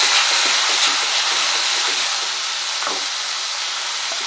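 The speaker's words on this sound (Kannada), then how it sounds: "ಟೊಮೆಟೊ ಸ್ವಲ್ಪ ಸಾಫ್ಟ್ ಆಗೋ ತನಕ 3-4 ನಿಮಿಷ ಚೆನ್ನಾಗಿ ಫ್ರೈ ಮಾಡ್ಕೊಳ್ಳೋಣ" Chopped tomatoes frying in a pan with onion and ginger-garlic paste, giving a steady, loud, close sizzle and hiss that carries on without a break, with faint stirring scrapes mixed in.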